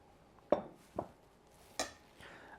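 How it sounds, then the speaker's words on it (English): Small spatula scraping buttermilk from a container while making cornbread, four quiet clicking scrapes and taps against the container's side, spaced irregularly, close and alone. "I'm going to use my little spatula and we're going to get all of that out of there"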